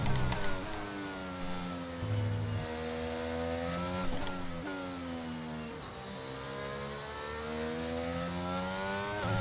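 A Formula 1 racing car in a video game accelerates hard, its engine note repeatedly climbing through the gears with sharp drops at each upshift, loud and continuous.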